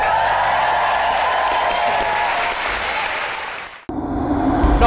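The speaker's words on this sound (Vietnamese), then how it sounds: "Một tràng pháo tay nồng nhiệt." A television studio audience claps in a warm, sustained burst of applause that fills most of the moment before cutting off abruptly, followed by brief music.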